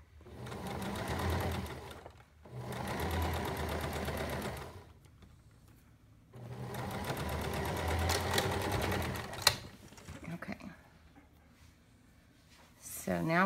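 A sewing machine stitches piping or lace onto a pintuck fabric panel, running in two long steady bursts of rapid mechanical whirring with quiet pauses between, close by, ending with a few clicks and handling noises.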